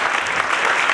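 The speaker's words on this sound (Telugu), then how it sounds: "ఒకసారి గట్టిగా చప్పట్లతో చిన్నారిని" Steady audience applause at a World Theatre Day stage event after a children's play, a dense continuous clapping from a crowd for the full second with no speech.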